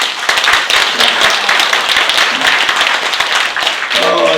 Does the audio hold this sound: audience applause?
yes